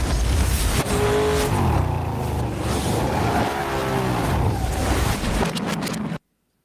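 A reversed car engine from what may be the Gran Turismo racing game, a loud continuous warped roar with rising and falling tonal sweeps that runs for about six seconds and then cuts off abruptly.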